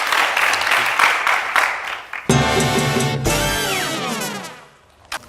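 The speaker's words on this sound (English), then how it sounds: "A round of applause for Professor Ignatius." An audience applauds a professor at a Nigerian nutrition health program, with about two seconds of lively clapping before a loud musical sting takes over.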